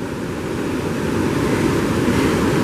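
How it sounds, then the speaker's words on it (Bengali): Huge storm-driven sea waves pound Teknaf beach during a cyclone warning, a loud unbroken low roar of surf mixed with gusting wind buffeting close by. "অনেক বিশাল বিশাল ঢেউ।"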